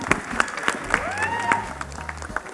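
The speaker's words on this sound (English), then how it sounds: "Big round of applause, ladies and gentlemen." Scattered applause from a crowd at a Box Cricket League launch event, sharp individual claps spaced out over a few seconds, with voices and a tonal whistle-like sweep mixed in.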